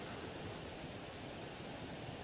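A small creek by the Harrington Covered Bridge in Pennsylvania gives a steady, faint broadband rush of flowing water, unbroken and alone with no voices.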